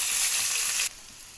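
Raw onion fries in hot oil in a pan with dried red chillies and bay leaf, a loud, steady, hissing sizzle close up that abruptly drops to a quieter simmer partway through.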